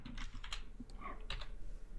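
Quick bursts of keystrokes on a computer keyboard as code is entered, close and clear, with irregular clusters of clicks and short pauses between them.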